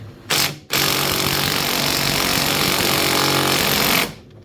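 A pneumatic impact wrench hammers on a snowmobile axle bolt of a Yamaha Venture, a short burst, then a long continuous loud rattling run that stops abruptly, close up with no talk.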